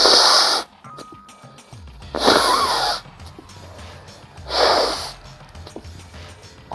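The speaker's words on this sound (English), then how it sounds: "I need to blow my nose." A person with a recent illness blows their nose in three loud, close, hissing bursts, each about a second long, separated by short quiet pauses.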